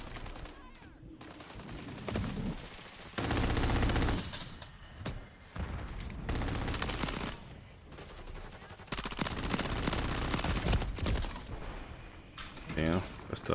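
SMG bursts from Call of Duty MW3 crackle in rapid, stuttering volleys, starting and stopping between short pauses, loud and close, with a player talking during the shooting.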